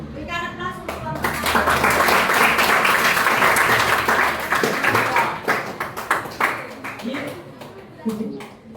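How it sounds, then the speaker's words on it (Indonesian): A classroom of students bursts into steady applause for a group, many hands clapping densely for several seconds before thinning out into scattered claps. "Berikan aplaus untuk kelompok"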